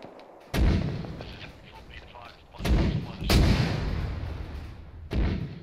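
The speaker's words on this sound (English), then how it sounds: "Oh, we're counter mortaring." Counter-mortar artillery fire in the game ArmA 3: four heavy booming shots at uneven intervals, each a sharp thud with a rumbling tail, faint talk between them.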